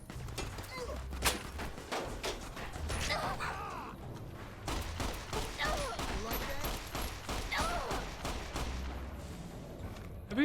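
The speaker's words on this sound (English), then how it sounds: "Everybody's shooting at me." Gunfire in the video game Fallout New Vegas, rapid repeated shots and impacts in a busy exchange, mixed with game effects and a voice talking over it.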